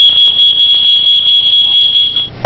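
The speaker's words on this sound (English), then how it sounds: "The smoke detector goes off." Smoke detector alarm going off, a piercing continuous high-pitched electronic tone with a steady pulsing overtone, loud and close, sounding alone for a couple of seconds before cutting out.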